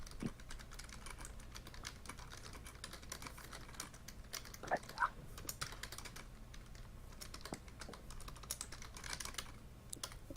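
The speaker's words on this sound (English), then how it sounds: "Are you doing that because I'm typing?" Someone types on a computer keyboard, producing a steady stream of soft, close key clicks with occasional louder taps over a quiet room background.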